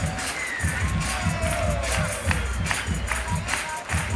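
A crowd cheers and roars steadily at a street football freestyle world final in Lecce, Italy, while a commentator talks over the noise.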